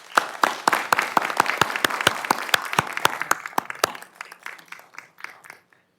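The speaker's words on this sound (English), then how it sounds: "one last round of applause for everybody involved." A round of applause at a county commission meeting, many hands clapping briskly and loudly together, then thinning out and fading over the final couple of seconds.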